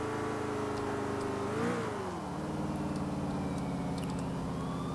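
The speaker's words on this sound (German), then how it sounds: "Der Krankenwagen." Ambulance siren in the video game Grand Theft Auto IV, a loud wailing tone that holds steady, swoops up and back down, then settles into a lower wail over engine and traffic noise, with no talk.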